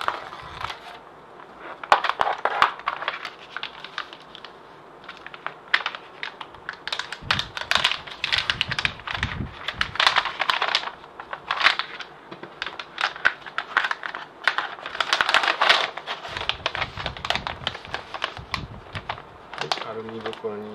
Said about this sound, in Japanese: 今度はこのアルミ袋に入れていきます。